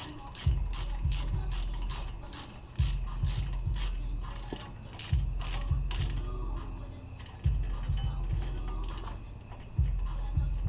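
Hand ratchet clicking as it tightens the front brake caliper bolts on a 2007 Mazda 3, a close, steady run of sharp pawl clicks in several rhythmic strokes with brief pauses between.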